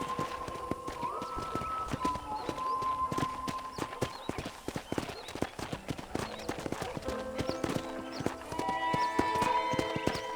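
Horse hooves clip-clop at a steady walking rhythm in the video game Red Dead Redemption, close and clear, layered with tonal background music and an occasional faint whinny.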